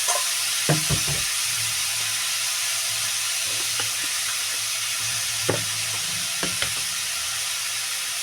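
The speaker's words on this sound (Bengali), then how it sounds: "লবণটা দিয়ে ভালো করে নাড়ি চাড়ি দেবো" Vegetables with kohlrabi and fish head sizzle steadily in a hot pan for a Bengali ghonto curry after salt goes in. A spoon scrapes and stirs in a few short, close bursts over a constant frying hiss.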